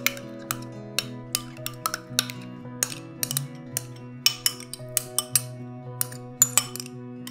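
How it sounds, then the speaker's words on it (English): A utensil stirs food coloring into pretzel dip in a bowl, giving a steady series of light scraping clinks against the dish, close and clear, with a faint hum underneath. "To about 4 drops of food coloring. I'm just gonna stir that and get it to turn fun green."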